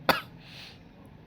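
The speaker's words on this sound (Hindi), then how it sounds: "मुझे शदीद खांसी हो रही" A woman with a bad cold gives a single sharp, close cough, followed by a brief breathy exhale and quiet room tone.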